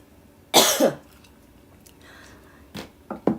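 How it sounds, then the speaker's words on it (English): A single harsh cough rings out close by, followed by a few softer throat sounds and small noises in a quiet room. "this cough"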